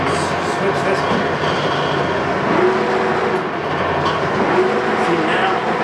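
A Monarch metal lathe running with its shafts and lead screw spinning, producing a loud, steady mechanical rumble throughout while someone talks over it.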